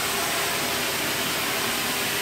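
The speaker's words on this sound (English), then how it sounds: "Major steam suction." A carpet steam cleaning machine sucks up heavily soiled carpet, giving a steady loud hiss and roar of suction with no breaks.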